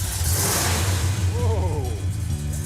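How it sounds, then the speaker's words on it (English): A big-block 1968 Dodge Charger R/T engine revs up and settles into a deep, loping idle close by, with a person talking over it. "You can't mistake a big block engine lope."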